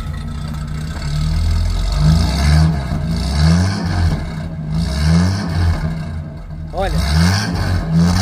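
A 1995 Ford F1000 pickup's six-cylinder gasoline engine revs repeatedly in rising bursts over a steady rumble, close by, while someone speaks briefly in Portuguese over it.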